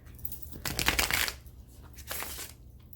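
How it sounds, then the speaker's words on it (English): Tarot cards being shuffled by hand in two bursts of riffling and sliding, a longer close flurry followed by a shorter one, with no talking. "let's shuffle"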